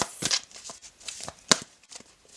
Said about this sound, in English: And I will shuffle them back in.